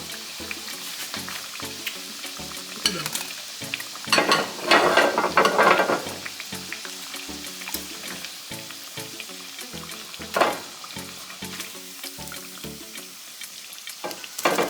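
Plantain slices frying in oil crackle and sizzle steadily throughout, with bursts of louder bubbling and clattering as pieces are lifted from the pan, and no talking.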